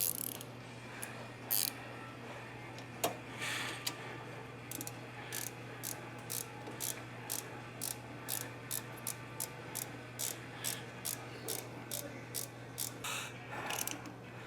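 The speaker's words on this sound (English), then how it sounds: "don't have a ratchet out, so a wrench will suffice" A wrench ticks in a steady series of quick clicks while turning a bolt on the 1776cc engine of a 1970 VW Beetle, close by, over a low steady hum, with a few louder knocks near the start and end.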